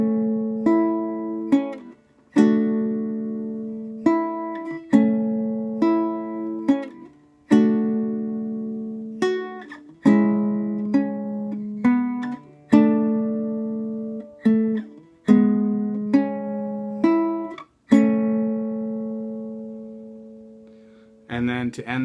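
Strummed chords on a baritone ukulele, each chord ringing out and decaying before the next, steady rhythmic pattern of repeated chord changes, played close and clear with no voice.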